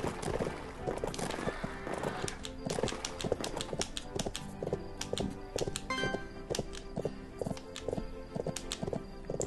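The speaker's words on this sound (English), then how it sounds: "My horse was slowing down after like every 2 seconds I went without pressing the button" Horse hooves clip-clopping in the Bibi & Tina horse farm video game, a brisk run of sharp, irregular hoof clicks close up with faint background birdsong, fairly quiet overall.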